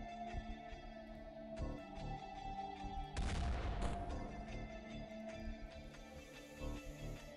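A single loud revolver shot mid-clip in the video game XCOM Files (OpenXcom) over a steady tonal game soundtrack, with a brief crackling decay afterward.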